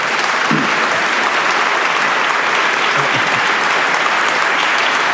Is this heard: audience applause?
yes